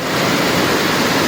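After rain, a stream runs through a farm field with a loud, steady rush of flowing water. The sound is broad and continuous and fills the short moment without any voices.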